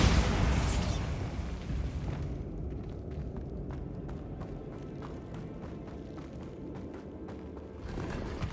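Bombarda blast spells cast in the Hogwarts Legacy video game, a loud explosive burst at the start followed by a rumbling decay and a run of sharp crackling pops over a steady low roar.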